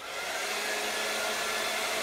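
A hair dryer on a cool setting blows air steadily to clean an insect specimen, a continuous loud whoosh that swells up at the start and holds with no talking.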